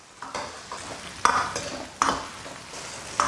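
Dried chilies, Sichuan peppercorns, ginger, scallion and garlic slices stir-fry in rapeseed oil and chili oil in a wok, a close steady sizzle broken by sharp metallic scrapes and clanks of the spatula every second or so.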